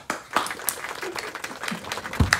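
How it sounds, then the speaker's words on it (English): A small family group claps for a two-year-old at home, loose, uneven claps close by with a few sharper hits and slight background sounds. "Claps."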